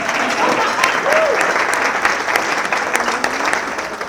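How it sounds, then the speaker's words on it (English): Breakfast-event audience at a chamber of commerce gathering claps for the guest MC, sustained applause from a full room with a few voices faintly mixed in. "You can applaud for Lauren."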